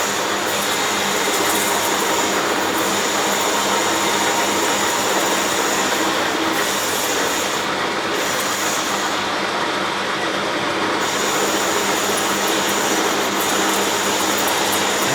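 A Smart & Brown metal lathe running at 800 RPM while machining bearing races for a tractor steering box, giving a loud, steady mechanical whine and hum that continues unbroken throughout with no speech.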